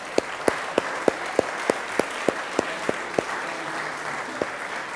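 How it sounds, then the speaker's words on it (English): Sustained audience applause at a closing-night church session, a steady wash of many hands clapping with one louder nearby clapper beating a regular, even rhythm above the crowd. "Can we just go ahead and applaud now for this?"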